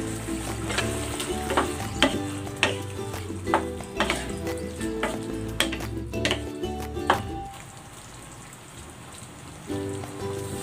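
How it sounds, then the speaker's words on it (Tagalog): Fried fish fillet goes into simmering sweet and sour sauce, bringing up a busy sizzle and bubbling with scattered clinks and stirring knocks that later settle into a softer simmer. "Ilalagay ko na dito yung ating prinitong fish fillet."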